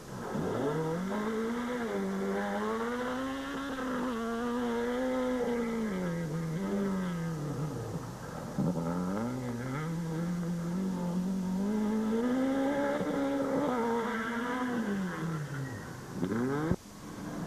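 Team Total Renault rally car flung hard around a twisty farmyard stage in a Toyota dealer rally, its engine revving and wailing continuously up and down through gears, loud and close throughout.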